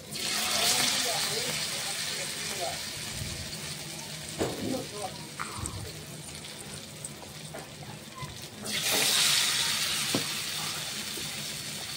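Karkul flowers coated in rice flour batter with turmeric, chili powder and salt are fried one by one in a kadai of hot oil, a steady sizzle that surges as each piece drops in, with a voice talking over it.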